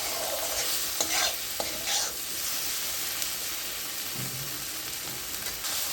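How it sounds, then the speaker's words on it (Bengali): A turmeric and tomato masala sizzles in a pan for tilapia curry while a spoon keeps scraping and stirring through it, a dense, close frying hiss with occasional sharper knocks and no speech. "ততক্ষণ আমি নাড়াচাড়া করব।"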